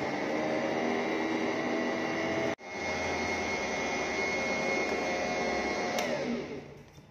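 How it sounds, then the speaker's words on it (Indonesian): An electric mixer running at low speed, mixing bread dough made with instant yeast: a steady, loud motor whir that drops out briefly once, then continues before trailing off. "Ini kita mixer kecepatan rendah sekitar 1 menit supaya tercampur rata dulu"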